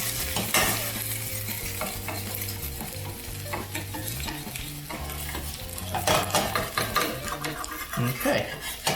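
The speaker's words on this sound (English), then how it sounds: "Scrape up a little more of this while we can." Metal spatula scraping browned bits off a hot pan while grilled cheese fries, with repeated rough scrapes and clinks over a steady sizzle, close and fairly loud.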